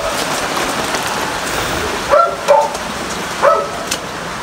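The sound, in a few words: rain falling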